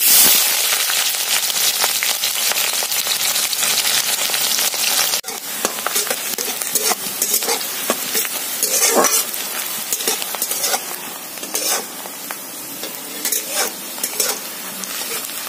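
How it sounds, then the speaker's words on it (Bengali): Thinly sliced onion fries in hot oil in a pan, a loud dense sizzle with constant crackling and popping, stirred now and then, with no talk. "পেঁয়াজটা হালকা ভাজা হয়ে গেছে"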